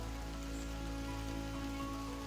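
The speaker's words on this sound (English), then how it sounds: "it stopped raining for a bit and it started raining again" Summer rain falling on sand dunes in Wales, a steady, close, even patter that continues without a break throughout.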